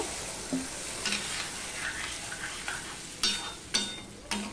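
A Bengali spice paste with ground spices and a splash of water stir-fries for murola fish jhal chorchori, giving a steady close sizzle broken by several sharp scrapes and knocks of a spatula against the pan.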